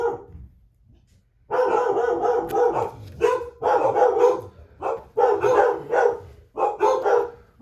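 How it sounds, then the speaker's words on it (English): Several dogs bark loudly and repeatedly nearby in bursts of overlapping woofs, after a brief quiet start, continuing in clusters with short pauses. "have to excuse my dogs."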